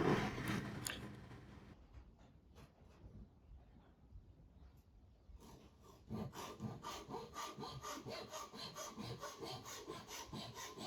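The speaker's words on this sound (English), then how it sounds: "cut them out using my Japanese saw" A Japanese hand saw cuts through wood in quick rhythmic strokes, a faint rasping start followed by a louder steady back-and-forth sawing.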